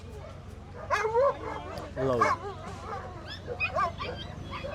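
Several dogs let out yelping, whining barks in short bursts over a low hum at a horse market in Sri Muktsar Sahib, nearby and fairly loud, with a person speaking briefly.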